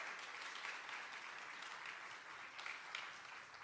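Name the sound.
audience applause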